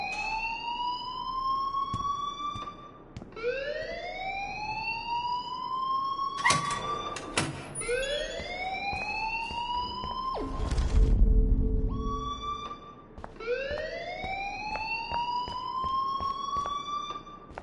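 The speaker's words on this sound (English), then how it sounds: "please turn off that alarm since that's your job" A repeating siren-like fire alarm rings through a school building in the video game Life is Strange, its rising electronic wails recurring steadily and loudly, with a brief noisy burst partway through and no talking.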